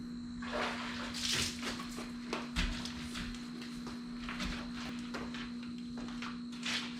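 Water splashed and wiped over a Honda Odyssey RB1 with a bucket and hand mop, a steady watery wash with a low constant hum beneath and occasional soft knocks.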